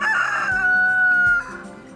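A rooster on an organic farm gives one loud, close crow with a long, drawn-out middle note that breaks off near the end, alone with no talk.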